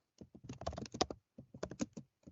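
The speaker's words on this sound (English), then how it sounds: "As you can hear him rapidly trying to write down on his keyboard." Rapid clattering keystrokes on a loud computer keyboard, in two quick bursts separated by a short pause, close and clear with no talking.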